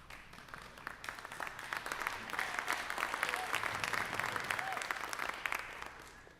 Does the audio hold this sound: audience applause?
yes